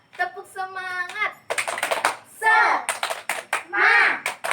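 An elementary school class claps a rhythmic cheer pattern, sharp bursts of many hands in quick groups, mixed with children's voices chanting along in a lively classroom.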